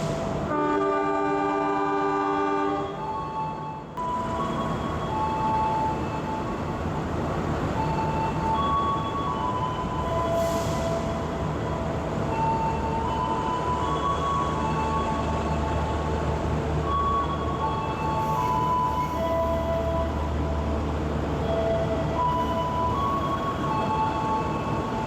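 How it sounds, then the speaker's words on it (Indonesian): A train departing a station rumbles steadily close by, with a long, loud horn blast at the start and continuous rolling rail noise that follows. "Senja Utama Solo diberangkatkan dari jalur 2."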